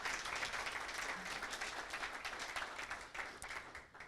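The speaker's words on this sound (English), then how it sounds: "Just a quick round of applause." A conference audience applauds at the end of a talk on maintenance and equipment criticality analysis, a steady dense wash of clapping that holds for several seconds and tapers slightly toward the end.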